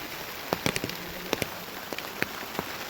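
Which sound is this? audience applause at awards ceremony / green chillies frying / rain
rain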